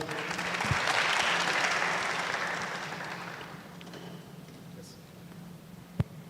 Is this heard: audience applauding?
yes